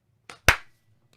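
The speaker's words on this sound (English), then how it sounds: "Clap in 3, 2, 1." A single sharp hand clap rings out alone in a quiet room to sync a podcast recording, preceded by a softer brief tap and followed by near silence.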